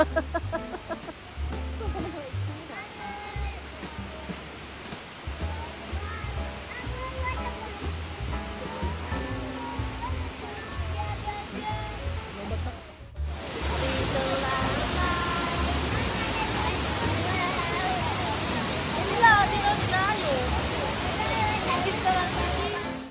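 Bridal Veil Falls near Harrison Hot Springs sends a steady broadband rush of falling water, which grows louder and fuller about halfway through as the listener moves closer, with people talking over it.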